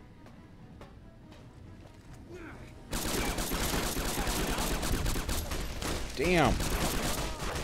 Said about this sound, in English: I shot freaking Willow right in the back.